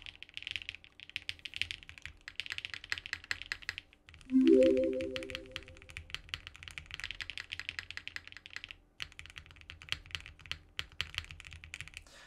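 Fingers type steadily on a Beta60 Evangelion-themed mechanical keyboard, a dense run of quick, clacky keystrokes, close and continuous, briefly joined by a short rising tonal chime.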